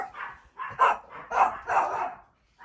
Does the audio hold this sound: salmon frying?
no